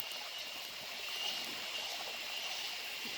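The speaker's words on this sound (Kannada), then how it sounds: "ಹಳ್ಳದ ನೀರು ಉಕ್ಕಿ" Overflowing stream water, swollen by rain, rushes in a steady, continuous hiss, even and unbroken throughout, with no voices.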